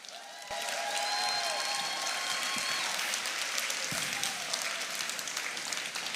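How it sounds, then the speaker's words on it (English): A crowd in a school gym at a FIRST robotics district event in Texas claps for mentors, steady broadband applause with faint tonal whistles or cheers mixed in, moderately distant and continuing without talk. "Let's have a round of applause for all our mentors"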